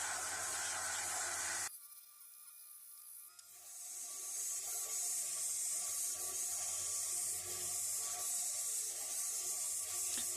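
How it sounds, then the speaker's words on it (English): An orbital sander works over an old Coes wrench during tool restoration, a close, steady abrasive whine that cuts out briefly near the start, then resumes as a constant grinding hiss, with no voices. "I'm going to try a few approaches on this to clean it up with the orbital sander here"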